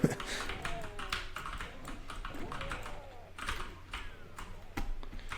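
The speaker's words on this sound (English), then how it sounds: "Sorry for the loud keyboard" Rapid, irregular clatter of computer keys being typed on close by, with a few louder taps standing out.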